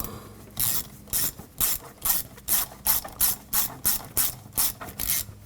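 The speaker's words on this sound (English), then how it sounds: "Tighten up this clamp." A ratchet tightens a clamp on the air intake of a 1995-2004 Toyota Tacoma, giving a steady run of about a dozen loud, close ratcheting clicks in an even rhythm.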